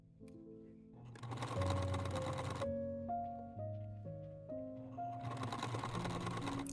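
A sewing machine stitching trim onto a costume, running in fast bursts of dense mechanical whirring that pause and restart, close and steady over faint background music.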